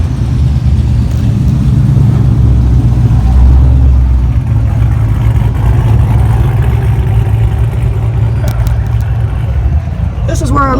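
A 1993 Ford Mustang Cobra R&D prototype with a Ride Tech setup and custom exhaust rumbles steadily up close, its low engine drone continuous and loud throughout, with people talking over it.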